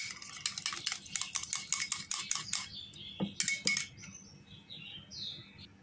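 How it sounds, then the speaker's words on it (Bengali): A spoon whisks a coconut oil remedy mixture with a rapid run of light metallic clinks for about three seconds, then a few more quick bursts before stopping. The clinks are close and fairly quiet, with faint chirps in the background. "দিয়ে ভালোভাবে এভাবে ফেটে মিশিয়ে দিতে হবে।"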